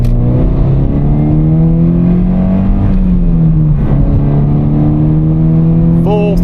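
A Scion FR-S with a muffler delete accelerates at full throttle, its steady loud engine drone rising slightly in pitch, heard from inside the car without pause for the whole stretch.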